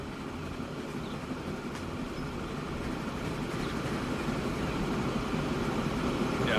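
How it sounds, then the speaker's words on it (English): Rumbling rolling noise of a train crossing a small bridge in the video game Transport Fever 2, steady and gradually growing louder as it comes nearer, with no talk over it. "Just this little bridge here as this train comes over."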